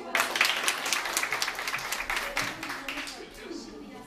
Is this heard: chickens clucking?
no